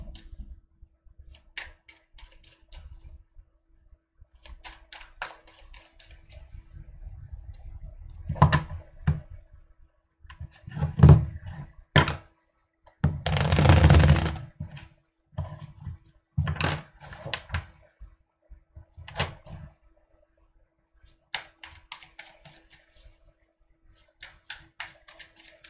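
Tarot cards shuffled in irregular bursts of riffling and tapping, with one longer dense riffle in the middle, close and fairly quiet, no talking.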